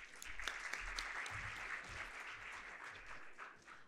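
Applause from a conference audience welcoming a speaker to the stage at a crypto assets panel, a continuous patter of many hands at moderate distance, fairly faint and steady.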